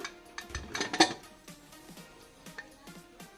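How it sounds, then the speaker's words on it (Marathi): A container lifted out of a cooled pressure cooker after steaming kharvas, a quick cluster of metallic clanks and clinks near the start followed by softer scattered knocks of metal cookware. "आता जरा खाली घेते कुकर आणि मग डब्बा व्यवस्थित काढून घेते।"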